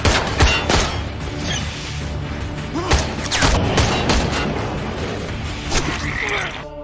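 Several sharp, loud bangs ring out at irregular intervals over a dense, noisy background, with speech faintly underneath.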